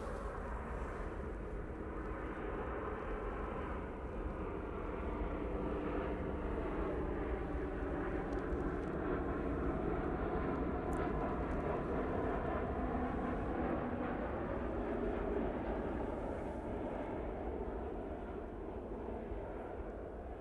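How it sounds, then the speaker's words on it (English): SunExpress Boeing 737 MAX airliner landing, a broad steady roar of jet engines heard from a distance, sustained and even with a gently shifting drone. "Nice landing there from the Sun Express."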